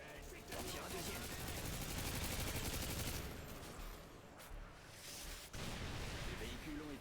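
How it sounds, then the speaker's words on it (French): Javelin missile launch in the Call of Duty Modern Warfare 2 campaign, a dense roar of blasts and gunfire over a busy battle, loud and continuous with a brief drop partway through. "Je tire un javelin."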